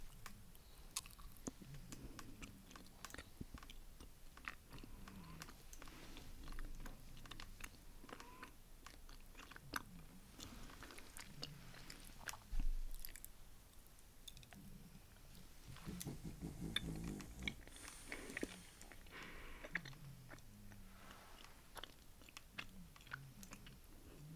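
Close, quiet chewing of a food item in an ASMR setting, with soft crunches, squishy bites and wet mouth sounds repeating irregularly over about twenty seconds, no talking.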